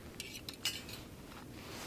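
Metal clinks and scrapes close by as a Jetboil MiniMo stove's pot stabilizer is packed into the pot, with a few quick taps over a quiet background hiss.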